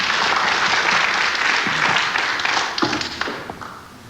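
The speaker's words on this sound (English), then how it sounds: "That shot appreciated by the crowd here at the Casino de Deauville." A crowd at the Casino de Deauville applauds an 8-ball pool shot, with dense, loud clapping that thins out into scattered individual claps and fades over about four seconds.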